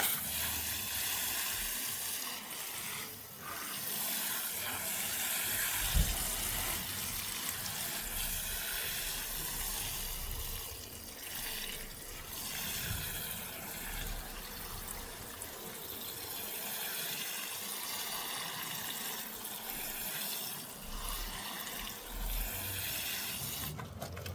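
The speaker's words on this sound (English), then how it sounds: "So I'm going to give it a little water" Water pours and hisses continuously onto dry soil in a garden pot, a steady splashing wash with no talk.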